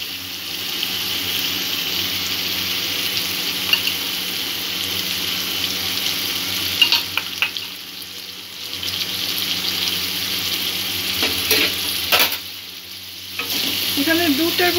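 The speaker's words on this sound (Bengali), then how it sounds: "পোস্ত দিয়ে মশলাটা আবারও একটু কষিয়ে নেব" Spice paste with ground poppy seed paste fries and is stirred in a pan, a steady close sizzle with scraping strokes, a brief quieter dip near the middle, no talk.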